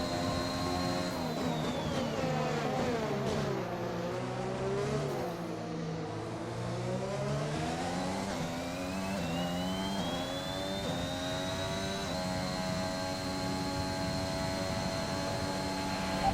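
An F1 car in the racing game F1 2021 accelerates out of the pit lane at Monza, Italy, its high-pitched engine whining up through the gears in long continuous sweeps, loud and close, with no voices over it.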